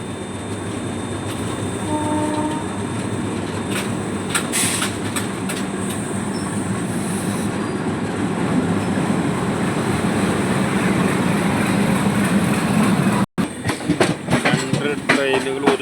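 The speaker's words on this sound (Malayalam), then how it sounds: "ഓപ്പോസിറ്റ് ട്രെയിൻ കടന്നു വരുന്നുണ്ട്." An oncoming train passes close by, a loud rushing roar of wheels and carriages that builds steadily, with rhythmic clatter and a brief horn early on.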